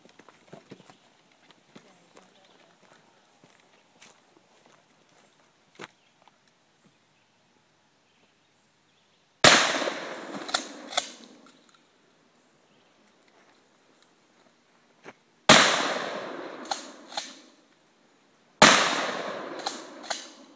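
Three loud, sharp gunshot blasts from a Remington 870 12 gauge tactical shotgun fired outdoors, each with a ringing tail, spaced several seconds apart after a stretch of quiet low chatter and small noises.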